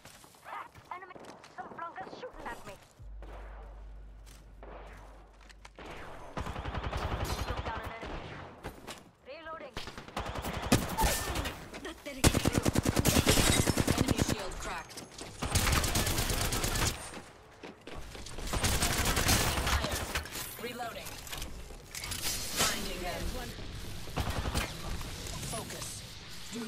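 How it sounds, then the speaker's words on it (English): Video game gunfire in Apex Legends: bursts of rapid automatic shots and single loud reports come in clusters, mixed with game audio and spoken lines. "Shooting at me."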